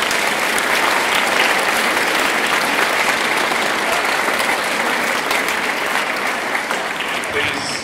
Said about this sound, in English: So one round of applause for her